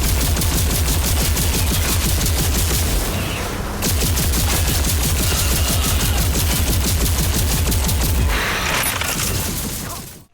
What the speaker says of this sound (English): another one that really stands out to me is the charged pulse cannon